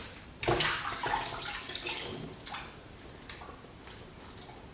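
Washed beef tripe draining in a kitchen, with water splashing and trickling away in a brief rush that settles into softer dripping and gurgles.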